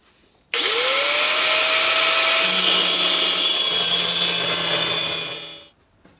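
A power tool spins up sharply and holds a loud, steady high whine with a rising tone while shaving down a metal alternator spacer for a Land Rover Series 2A alternator swap, then it cuts off.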